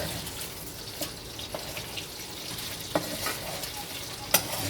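Fish frying in a little oil for a Good Friday fish fry gives a steady, close sizzle with small crackles and a few sharp pops, maybe brief tap water or stirring in the background.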